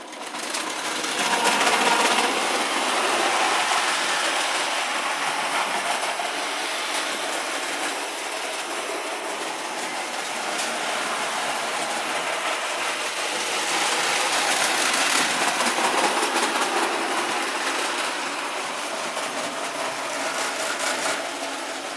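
A Hornby clockwork toy train runs around a large model layout, giving a continuous whirring, rattling mechanical drone that holds steady with slight swells for a long stretch, close and fairly loud.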